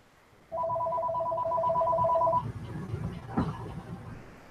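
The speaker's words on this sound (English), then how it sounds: "Let me try to mute my phone. Well, it stopped ringing" A phone rings with a steady electronic trill lasting about two seconds, clear and close, then cuts off, followed by a brief clunk and low background murmur.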